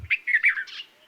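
A red-vented bulbul gives a quick, bright run of liquid chirpy notes, clear and fairly close, lasting about a second.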